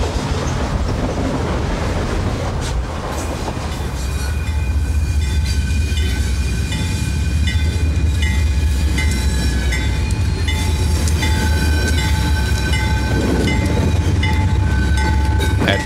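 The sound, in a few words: CSX Tropicana Juice Train passing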